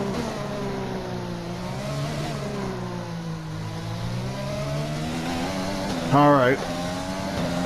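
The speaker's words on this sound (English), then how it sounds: "We're gonna just enjoy the nice sounds of F1 being back in action" F1 race car engines whine in a racing video game, a steady high droning tone with rising and falling pitch as cars run on track, with a brief sharp rising rev near the end and a short spoken word over it.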